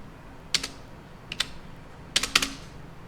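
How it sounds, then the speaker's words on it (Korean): Computer keyboard keys pressed in a few quick clusters, sharp close clicks with short pauses in between on a quiet background. "컨트롤 키 누르고 엔터 두 번 쳐보십시오."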